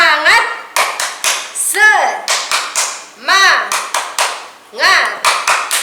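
A standing group at a children's church service claps a quick rhythmic spirit clap in short bursts, with young voices chanting and shouting between the claps.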